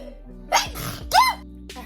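Two short, sharp sneezes close to the mic, a half second apart, loud against a quiet room with a low steady hum.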